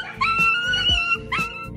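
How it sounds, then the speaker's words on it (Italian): A schnauzer whines and yelps excitedly at a reunion, with high, drawn-out cries and quick squeaky yips in short bursts, close and fairly loud. "Lo schnauzer spinge, grida di gioia e sembra fare fatica a contenere la sua euforia."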